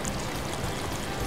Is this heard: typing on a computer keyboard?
no